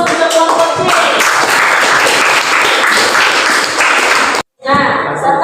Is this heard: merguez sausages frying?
no